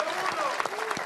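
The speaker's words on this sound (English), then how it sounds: "Another round of applause for David for the Interlagos race." Steady applause from a crowd at an F1 esports show, a dense wash of clapping with a few sharper claps standing out, fairly distant and even throughout.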